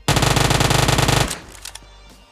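A Uzi submachine gun in PUBG Mobile fires a rapid, evenly spaced burst of about a second, loud and close. It cuts off sharply, and a few fainter shots and clatters follow before it goes quiet.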